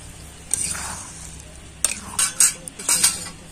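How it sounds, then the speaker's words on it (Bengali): Curry with yogurt gravy, potol and paneer being stirred in a pot over a clay stove, with scattered clinks and scrapes of a spoon against metal over a soft simmering hiss, close by, with no talking. "এবার ভালো করে এটাকে মিশিয়ে নেব।"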